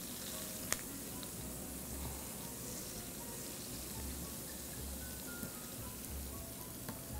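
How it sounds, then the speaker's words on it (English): Brined pork chops with fresh thyme sizzling in a pan, a steady fine hiss of frying throughout with an occasional faint click of stirring. "Gonna add some fresh thyme. Let's get that stirred around."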